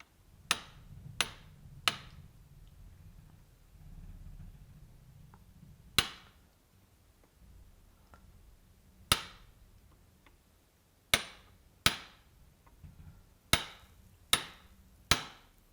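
A bar is struck with a hammer to start a central split for a cleft weld, sharp ringing blows, about a dozen in irregular groups with gaps between, close and clear over a faint background hum.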